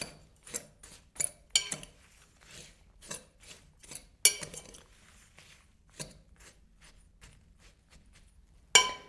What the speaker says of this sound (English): So we're gonna put that cup of turbinado sugar on top of the lemon peel, muddle it a little bit